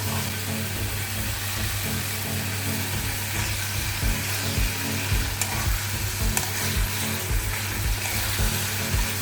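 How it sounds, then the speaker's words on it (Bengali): Spice masala with onion and tomato fries in a wok with a little water, a loud wet sizzle over repeated scraping strokes of a spatula against the pan. "এই মশলাটাকে ভালো করে কষিয়ে নিচ্ছি, আর যেহেতু কড়ায় ধরে যাবে, তাই জন্যে আমি একটু অল্প জল দিয়ে দিয়েছি"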